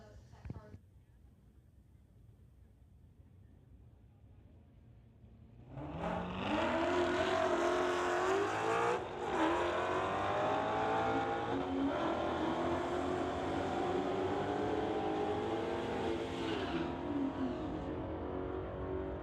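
A 2016 Corvette and a 2015 Mustang drag racing at a street-legal strip, quiet idle then a sudden loud launch into a sustained, roaring full-throttle run with a brief gear-change dip.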